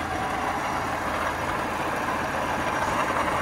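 A quad's twin-cam 16-valve engine idles with a steady, even rumble, running continuously at moderate volume with no voices.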